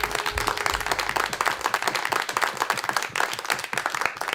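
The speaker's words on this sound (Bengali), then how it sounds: "এবং মিউজিশিয়ানদের জন্য একটা জোরে হাততালি দেন সবাই।" An audience applauds musicians at a folk music reality show studio round, dense, sustained clapping close and loud throughout.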